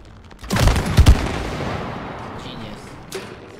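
Gunfire from the co-op video game It Takes Two, a loud close burst of booming shots that settles into a rumbling tail and then fades.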